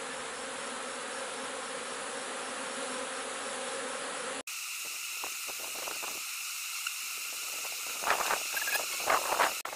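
Honey bees buzz steadily around an open hive while frames are handled, a dense insect hum that continues throughout with a few soft knocks and rustles near the end.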